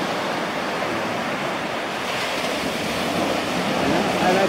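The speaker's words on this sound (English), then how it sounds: "So we're at, right now, this beach, Velia Beach." Waves wash onto the shore at Velia Beach in Italy, where the sand is green, in a continuous, moderately loud surf rush with some wind, swelling slightly toward the end.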